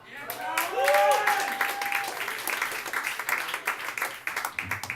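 Audience applause and clapping for a comedian at a comedy club show in Portland, a steady burst of many hands with whoops and cheers mixed in, fading somewhat toward the end.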